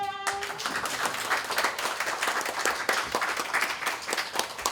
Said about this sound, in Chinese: 让我们给予热烈的掌声